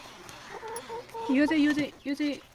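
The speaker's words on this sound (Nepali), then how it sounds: "हाम्रो माइतीबाट पठाइदिएको कुखुरा हो।" A chicken sent from a relative's home clucks several times at close range in a rural Nepali household, with short rhythmic calls and a brief voice nearby.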